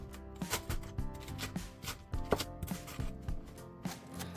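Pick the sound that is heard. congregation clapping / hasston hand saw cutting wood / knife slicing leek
knife slicing leek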